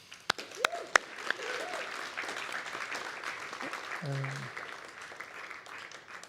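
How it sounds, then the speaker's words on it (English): Audience applause at a university summer writing program faculty reading, a steady wash of clapping from a seated crowd after a performance, with a few sharp nearby claps at the start and brief voice sounds mixed in. "One more round of applause."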